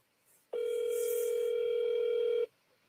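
A telephone tone sounds while a call is placed, one clean steady electronic hum lasting about two seconds that starts and stops abruptly, with near silence before and after.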